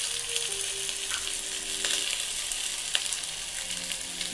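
Salt, turmeric and chili powder are stirred in hot oil in a pan, making a steady, loud, close sizzle with a few faint scrapes and clicks.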